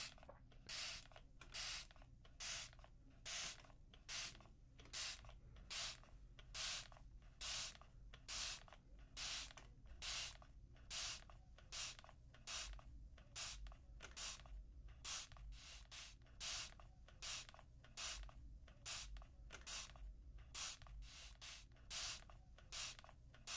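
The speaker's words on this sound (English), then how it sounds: "I'll keep spraying your face" Close-up spray bottle misting in steady rhythmic bursts, about one spritz per second, each a crisp airy hiss, repeated throughout in a quiet ASMR setting with no talking.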